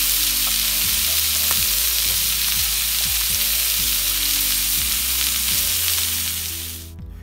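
Salmon fillet frying skin-side down in a pan, a steady loud sizzle with faint crackles throughout, easing off near the end.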